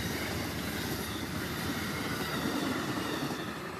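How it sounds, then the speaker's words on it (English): An Amtrak passenger train rushes past close by, a steady loud roar of wheels and rail noise filling the whole stretch with no talk over it. "It went by really fast."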